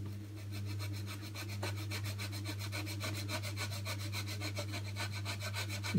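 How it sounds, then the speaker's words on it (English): A hand saw cuts through a wooden rib on a model aircraft fuselage, making quick, even back-and-forth rasping strokes close by over a steady low hum. "So I'll have to sort of cut up the rib."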